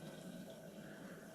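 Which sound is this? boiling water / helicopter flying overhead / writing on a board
boiling water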